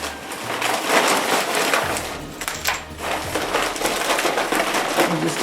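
Hobby Lobby purchases being unwrapped from their packaging, a continuous close crinkling and rustling of paper with crackling bursts throughout.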